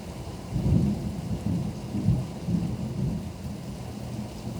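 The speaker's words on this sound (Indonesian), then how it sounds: "Ada yang di Jakarta juga hujan pasti" Steady rain falls in Jakarta, a dense continuous hiss with low rolling thunder rumbling in several swells beneath it, and no voices.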